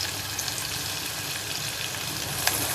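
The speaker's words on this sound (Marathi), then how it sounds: "ह्याला आपण फ्राय करून घेऊया" Hot oil frying green chili and ginger in a pan, a steady, close, continuous sizzle with faint crackles and no voices over it.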